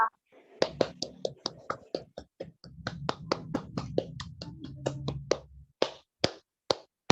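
Rhythmic hand clapping in a classroom, a sharp patterned series of claps that starts sparse, speeds into a steady chant-like rhythm with a low hum underneath, then ends in a few separate claps.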